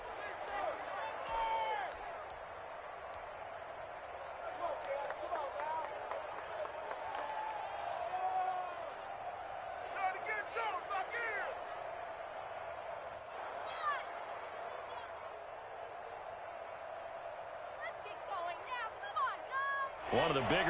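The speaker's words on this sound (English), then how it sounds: "The crowd getting into it as we come up on a big 3rd down." Crowd noise at a Broncos at Steelers football game fills the stadium in a steady roar with bursts of cheering and applause, running throughout under a commentator's voice.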